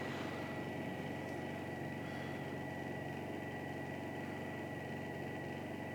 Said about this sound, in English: low idle with the Honda